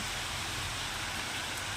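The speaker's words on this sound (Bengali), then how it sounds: "দেখো, বৃষ্টি কিন্তু বেড়েই চলেছে, কমার কোনো লক্ষণ নেই।" Steady, dense rainfall hisses evenly throughout, heard from a rooftop, a continuous wash of drops with no letup and no voices.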